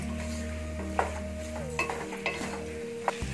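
Potatoes are stirred with masala in a pan during vegetable prawn biryani cooking, making a soft sizzle with scraping spatula strokes and a few sharp clinks against the metal.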